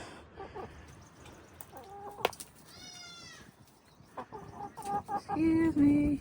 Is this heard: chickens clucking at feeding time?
yes